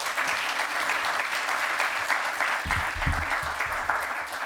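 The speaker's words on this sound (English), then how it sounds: "Give them all a big round of applause." An audience gives a round of applause at an alumni event, a sustained wash of many hands clapping at moderate volume, with a few low thumps partway through.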